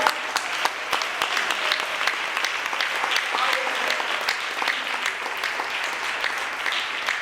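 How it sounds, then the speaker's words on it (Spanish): A church congregation claps steadily and vigorously for several seconds, a dense, sustained applause filling the room. "Entonces, denle un aplauso al Señor."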